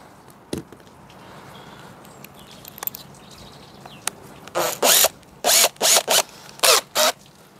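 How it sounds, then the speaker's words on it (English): A power drill fitted with a 4mm bit drives self-tapping screws in five short, loud bursts in the second half. Quieter ambience with faint birdsong comes first. "I'm going to use a 4mm drill bit and the supplied self-tappers."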